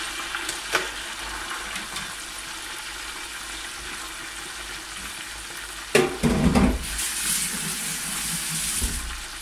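Eggplant and peppers fry steadily in a hot pan, a constant close sizzle that swells louder near the end as pieces are stirred or shifted, with no talking.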